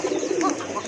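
Soft, low cooing from a pair of high-quality pigeons of a large breed, a close murmuring coo lasting about a second with no talk over it.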